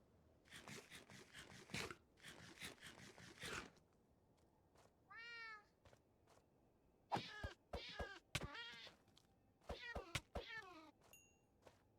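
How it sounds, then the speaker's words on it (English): Minecraft wraith mob making cat-like meows and yowls, a few short wavering cries after some scraping sounds, fairly close with no talk over them. "Why did that wraith sound like a cat?"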